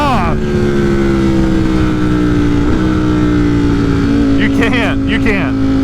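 A tuned motorcycle at full throttle roars loud and close, engine note climbing steadily under hard acceleration before quick rising revs near the end, with a rider's voice faintly mixed in.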